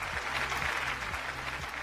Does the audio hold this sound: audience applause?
yes